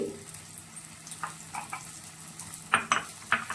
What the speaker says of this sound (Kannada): ಸ್ವಲ್ಪ ಫ್ರೈ ಮಾಡ್ಕೊಳ್ತೀನಿ